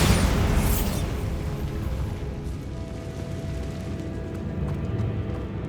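Bombarda blasting spell in the wizarding game Hogwarts Legacy, a loud explosive burst up front that decays into a long rumbling wash of debris and noise.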